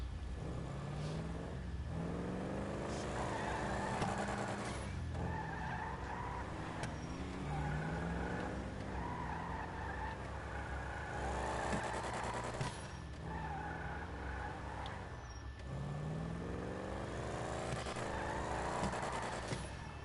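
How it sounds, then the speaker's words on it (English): A sports car in GTA V accelerates hard, its engine note climbing repeatedly in rising sweeps as turbo boost builds, loud and continuous with brief dips between shifts. "You hear that boost build?"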